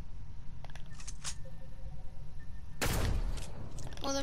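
Video game gunfire in Fortnite: one sudden loud blast over a low game background, followed moments later by a brief rapid rattle.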